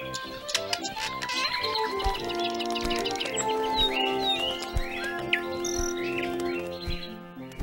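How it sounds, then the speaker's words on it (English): Birds chirp and tweet in a steady chorus over layered background music, with bright, high repeated calls continuing throughout at moderate volume. "And more birds."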